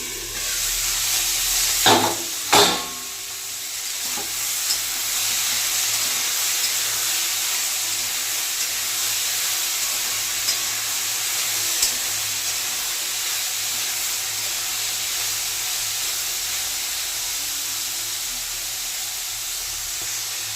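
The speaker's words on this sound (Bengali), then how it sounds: "সব সবজি দিয়ে ভেজে নেবো ভালো করে ঢাকা দিয়ে দিয়ে ভালো করে ভেজে নেব" Mixed vegetables fry in a covered pan for mixed fried rice, giving a steady, even hiss throughout, with a couple of sharp knocks near the start.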